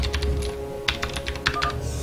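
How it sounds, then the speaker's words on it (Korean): Irregular clicking keystrokes come from a computer keyboard set at an angle on a desk during a StarCraft team game. The taps are close and uneven over a steady background hum. "키보드가 지금 약간 대각선으로 지금 키보드를 놔둬가지고 타자가 좀 어색하네."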